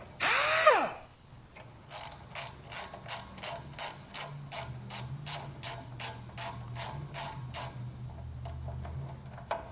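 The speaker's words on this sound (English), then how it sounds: "we'll go ahead and remove this 12mm bolt." A ratchet backs out a 12mm caliper bolt on a 2006 Toyota Tacoma, a rapid, evenly spaced run of about fifteen close metallic clicks, preceded by a short screech.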